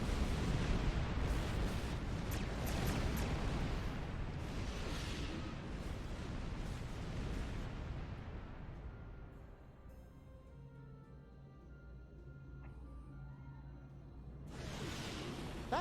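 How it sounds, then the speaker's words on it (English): A chain reaction explosion in the video game Star Trek Online roars as a long, loud series of booming blasts and whooshes. It fades into a low rumble, then a final burst flares up near the end. "Let's get moving before we get caught in this explosion."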